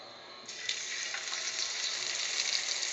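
Pork chops sizzle in hot oil in a skillet for a barbecue pork chop dish, a steady close crackling hiss that surges louder as the meat goes in and keeps spitting evenly throughout.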